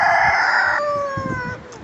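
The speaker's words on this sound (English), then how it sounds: "There's my rooster in here." A rooster crowing close by among backyard chickens; one loud, drawn-out crow that fades into softer clucks and low farmyard noise.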